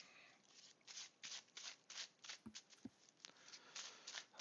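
A deck of Magic: The Gathering cards shuffled close up, rapid riffling bursts repeating in a steady rhythm with a couple of soft thumps as the cards are squared.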